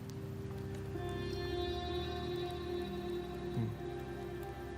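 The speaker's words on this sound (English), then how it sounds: "The rains in Septimont never seem eager to leave this season." Steady rainfall in Septimont in Wuthering Waves, a constant wash of drops under a sustained tonal music bed, even and moderately loud throughout, with no talking.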